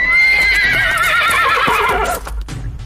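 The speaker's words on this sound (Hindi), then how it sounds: "घोड़े दहशत में हिनहिनाते हुए अपने पिछले पैरों पर खड़े हो गए।" A panicked horse lets out a long, loud, wavering whinny that lasts about two seconds and then stops abruptly, followed by faint rustling.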